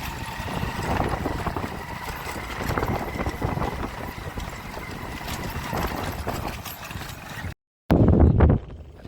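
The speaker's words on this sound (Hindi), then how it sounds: "वाकई खूबसूरत घोड़ा चलता है, आप देखिए दोस्तों।" Horse hooves clip-clop steadily at a rewal chal race for young horses in Dhanavada, Abdasa, Kutch, with a dense, continuous rhythm under outdoor noise, cutting out briefly near the end before a louder burst.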